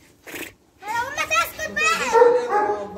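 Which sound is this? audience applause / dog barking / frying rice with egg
dog barking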